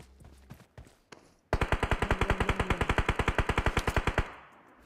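Rapid automatic gunfire in PUBG Mobile: a few scattered shots, then a long steady burst of about thirty sharp evenly spaced rounds, loud and close, ending abruptly.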